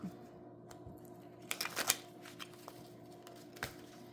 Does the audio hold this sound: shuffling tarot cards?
yes